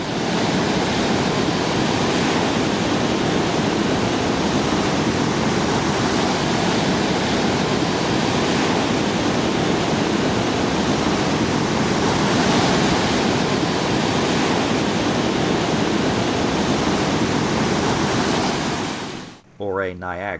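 Niagara Falls roaring, heard as a steady, loud, broadband rush of falling water that runs unbroken throughout, then cuts off abruptly near the end.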